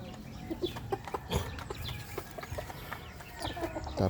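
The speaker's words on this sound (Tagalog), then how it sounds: "Tapos ito mga manok" Several backyard chickens cluck and cackle in short, irregular bursts against a busy outdoor background, moderately close.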